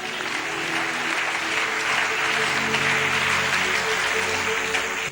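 A church congregation breaks into steady, dense applause and cheering that fills the whole stretch, loud and sustained, with no speech over it.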